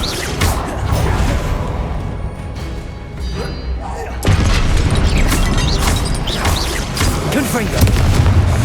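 Confringo fire spells blasting statues in Hogwarts Legacy, heavy booming explosions and crashing thuds layered with game sounds, growing louder partway through, while a voice talks over the action.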